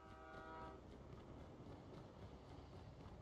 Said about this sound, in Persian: قطاره